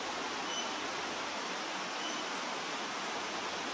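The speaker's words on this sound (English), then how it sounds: "A small creek with its gentle waterfalls beckons me to sit quietly and immerse myself in the moment." Small creek with gentle waterfalls, a steady soft rushing of falling water, even and unbroken, fairly quiet and alone with no voices.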